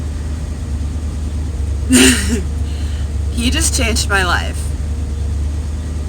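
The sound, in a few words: RV engine running after carburetor was unclogged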